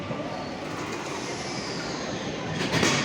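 An underground train in Rome runs with a steady, loud rumbling roar that swells slightly toward the end, with no voices.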